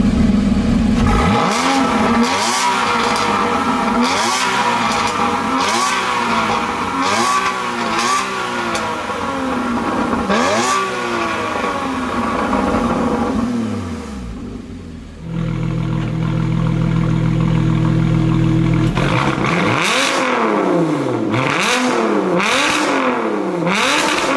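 Loud engines of a Porsche Cayman GT4 and a Lotus Evora GT rev repeatedly in rising and falling bursts, with a brief lull and a steady idle before the revving resumes, close by.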